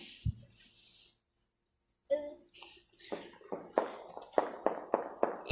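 Firecrackers bursting outdoors at a New Year celebration, a string of sharp loud cracks coming in quick succession toward the end, after a few isolated pops, with children's voices and movement around them.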